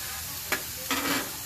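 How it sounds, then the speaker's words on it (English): Slider burgers and onions frying on a griddle give a steady, close sizzle, broken by two short scraping bursts as a spatula shifts the onions beneath the patties. "I can move my little onions underneath the burger."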